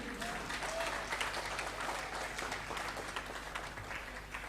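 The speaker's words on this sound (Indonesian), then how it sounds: "Yang tepuk tangan biasanya tim sukses yang gak jadi biasanya" An audience at a religious lecture claps in a steady wash of applause, moderately distant and a little muffled, lasting several seconds with no pauses.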